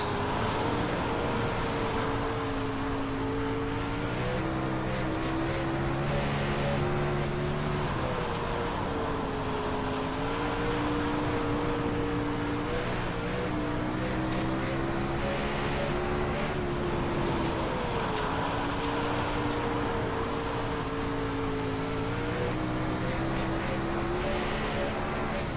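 A dirt race car lapping in the iRacing video game, its engine droning loud and continuous, with revs repeatedly rising and dipping through corners, plus light tire scrubbing and no voices.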